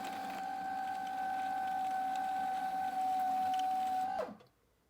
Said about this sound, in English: It is going to spin your own bobbin of thread.